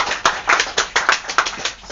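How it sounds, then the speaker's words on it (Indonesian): Wedding guests clapping in rhythm, about eight sharp, evenly spaced claps over two seconds, close and fairly loud with no talking. "Tepuk tangan dong."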